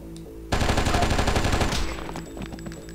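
Enemy gunfire in the Oni action game, a sudden loud burst of rapid automatic shots that starts abruptly and rattles continuously for about a second and a half before tailing off.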